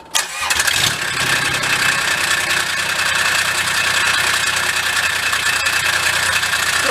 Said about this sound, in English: Let's see if she cranks.